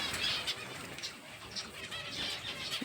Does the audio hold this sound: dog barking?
no